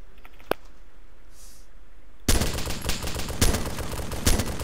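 Automatic weapon fire erupts in an Arma 2 firefight, a sudden dense burst of rapid shots after a quiet lull with one lone earlier crack, loud and sustained with short peaks.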